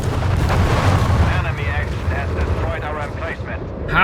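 Airstrike explosions in Company of Heroes 3 during a match, a heavy rolling rumble of blasts that is loud at first and then eases, with a voice talking over the battle.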